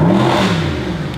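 A Mercedes SLS AMG with its stock factory exhaust revs hard up close, giving a loud, continuous engine roar that holds steady and unbroken from start to finish.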